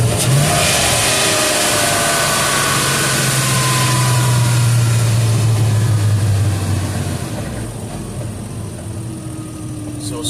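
Stock Porsche Boxster S flat-six with the engine cover and heat shield removed, revving loud and close, a sustained rising roar that settles back toward idle. A voice is heard faintly underneath.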